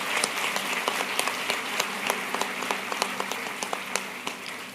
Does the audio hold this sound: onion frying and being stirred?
no